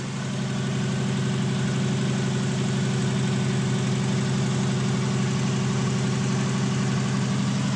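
A Subaru engine fitted in a converted van idles with a stainless exhaust, a steady low rumble with an even pulsing beat that stays loud and unchanging throughout.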